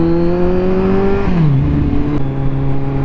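A Kawasaki Z1000R motorcycle engine drones steadily up close while riding, its tone rising and then dropping in pitch as the revs change.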